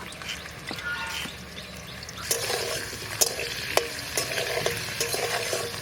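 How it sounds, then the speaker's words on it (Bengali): Potatoes fry in a pan with a low steady sizzle, broken by sharp scraping clicks of a spatula stirring against the metal, close but quiet. "আলুটা আমি ভেজে নিচ্ছি।"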